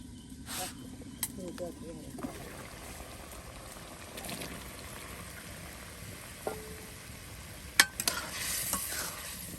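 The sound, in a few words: sautéing spicy chicken curry with potatoes, stirring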